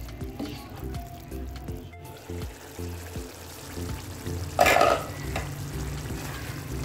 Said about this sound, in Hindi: दही को अच्छे से इसमें हम मिक्स कर लेंगे ताकि पानी खुश्क हो जाए।